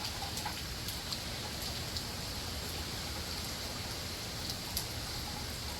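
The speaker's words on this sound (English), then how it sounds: "It's raining a little bit harder." Steady rain from Hurricane Milton hisses down in a dense, even wash, with scattered drips and taps on nearby surfaces and no voices.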